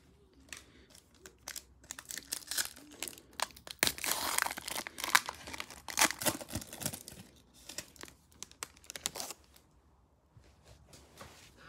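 2017 football card packs being torn open by hand, plastic wrappers crinkling and tearing in close, busy bursts with quieter pauses between, no talking.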